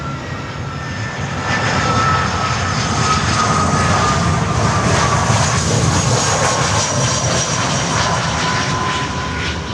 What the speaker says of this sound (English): Avianca Cargo coming over to us to runway 9.